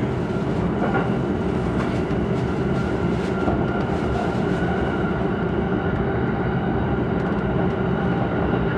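A JR E231 series electric local train on the Tokaido Line rumbles steadily along the tracks, heard from inside the car, with a continuous low roar, motor hum and faint rhythmic clacks.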